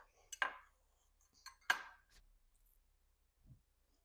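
A spoon pulled from a set of kitchen utensils makes two crisp metallic clinks, then a softer rattle and a faint dull knock in an otherwise quiet room.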